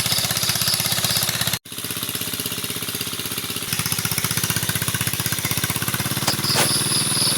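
A tractor engine runs while a rice paddy is prepared, with a loud, close, steady chugging drone and rapid regular firing pulses, a brief dropout near the start, then continuous running to the end.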